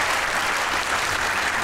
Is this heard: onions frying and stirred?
no